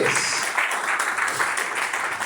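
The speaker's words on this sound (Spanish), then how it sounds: "déle ese aplauso con toda el alma al Rey de Reyes y Señor de" Audience applause at an evangelical church event, dense steady clapping throughout the short span, fairly close and loud.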